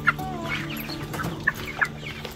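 Farm chickens clucking nearby in a Filipino backyard setting, with a few short, sharp clucks standing out above a low background hum.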